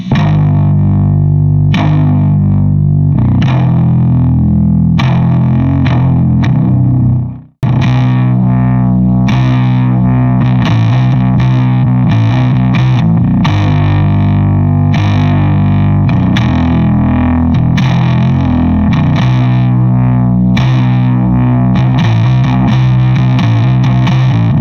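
A bass guitar plays a slow, heavy doom riff through cranked distortion, loud and sustained with thick, droning low notes and one brief cut in the middle.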